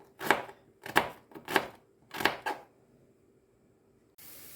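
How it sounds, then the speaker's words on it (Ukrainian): Knife chopping carrots on a board, five or six irregular crisp chops close up, then quiet. "Нарізаю моркву"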